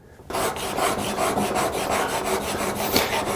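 A corner chisel is rubbed back and forth on a coarse sharpening stone, giving a close, steady rasping scrape in even strokes that starts abruptly and keeps a regular rhythm.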